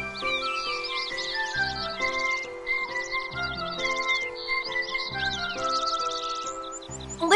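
Birds in the Kingdom Hearts 3 video game sing a bright, repeating melody of chirps and tweets over soft musical tones that run continuously.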